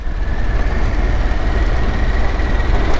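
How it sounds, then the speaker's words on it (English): A vehicle engine brakes on its way down a hill, giving a steady low droning rumble that stays loud and even throughout with no voices. "we'll just let it engine brake"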